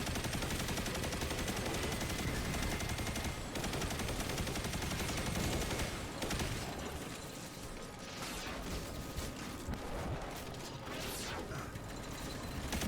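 The Heir Apparent heavy machine gun in Destiny 2 spins and fires continuously, producing a loud, dense mechanical rattle with whirring barrel noise. A brief dip comes midway before the steady stream of shots resumes.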